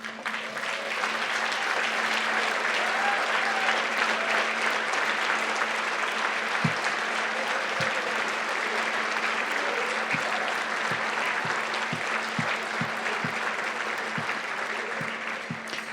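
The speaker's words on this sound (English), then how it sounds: "I'm going to ask you guys to stand up because you deserve a big round of applause." Sustained applause from an audience standing for agency staff at a welcome event, a thick even wash of clapping that holds throughout, with a low steady hum and scattered sharp thumps near the end.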